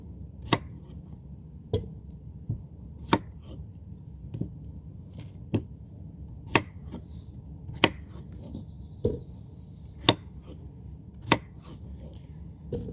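A knife chops vegetables on a cutting board for a seared salmon dinner with asparagus, mashed potatoes and pesto. About a dozen sharp, close knocks land at a steady, unhurried pace over a quiet background with no talk.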